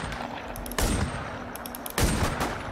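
Two loud, sharp Mossberg shotgun blasts in a video game, spaced about a second apart, each with a booming tail over faint background game sounds.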